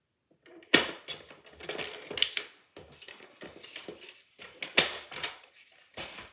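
Paper being cut for a fun fold greeting card, irregular crisp snips and slicing clicks with two sharper louder cuts, close up and without talk.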